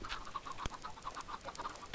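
Several Minecraft chickens cluck and chatter in quick bursts, soft and somewhat distant, with one sharp knock partway through.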